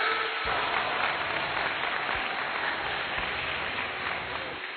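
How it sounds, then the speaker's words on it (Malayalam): An audience at a parish gathering in a church claps in a dense, continuous round of applause, loud and even throughout. "നല്ലൊരു കൈയടി കൊടുത്തേ"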